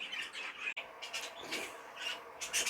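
Cage birds at a bird show give repeated chirps and short calls, fairly close and continuous, over a soft room background with no speech.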